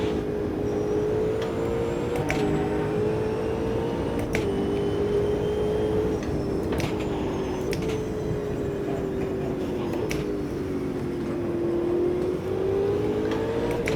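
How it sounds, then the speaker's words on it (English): Steady car engine drone with a wavering pitch in the racing game Automobilista 2, overlaid by a continuous hissing spray of tires on a wet track, loud and constant throughout. "There's the rain sound. Or the wet track sound, rather."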